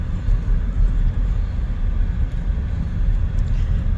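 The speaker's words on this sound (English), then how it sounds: "Don't mind their car, it likes to yell." A car in a dry dust-devil setting near Camp Needmore roars with a loud, rumbling low drone that stays constant throughout, no one speaking over it.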